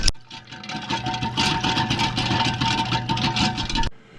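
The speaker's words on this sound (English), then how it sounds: "You gotta crank butter to make butter." An antique hand-cranked butter-making machine is turned steadily, giving a rapid, rhythmic mechanical whirring and rattling for about four seconds before stopping abruptly, close and fairly loud.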